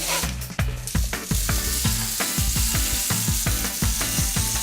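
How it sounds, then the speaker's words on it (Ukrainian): Sliced carrot rings fry in an open pan with a steady, close sizzle, broken by a run of sharp rhythmic scraping or clicking strokes from stirring throughout. "Трошки обсмажуємо на відкритій пательні, а потім закриємо, щоб вона дійшла."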